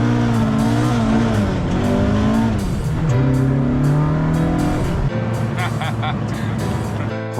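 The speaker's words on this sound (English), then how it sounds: "straight in his Mk2 Escort rally car" A Mk2 Escort rally car being driven hard, its engine loud and close, climbing and falling through revs with gear changes and some tire noise, with a voice talking over it.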